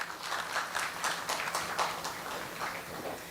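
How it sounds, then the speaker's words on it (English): Audience applause at a day of the IASTA 2023 conference, a steady soft patter of many hands clapping at moderate distance, with no one talking over it. "A big round of applause, please."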